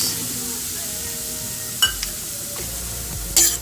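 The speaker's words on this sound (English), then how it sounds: "So I am putting the already dry fry one in the pan" Dry-roasted semolina (rava, suji) stirred in a frying pan for rava halwa, giving a quiet steady hiss with a few sharp scraping clicks of the spoon against the pan.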